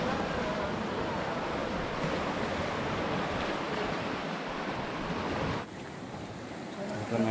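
Ocean surf washing onto a beach in Goa, a steady broadband roar of waves mixed with wind buffeting the microphone, continuous and fairly loud, easing slightly near the end.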